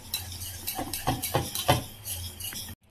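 A spoon stirs and scrapes through a thick vada pav mixture in a bowl, giving repeated soft clinks and squelching strokes at a steady rhythm, close by, before cutting off abruptly.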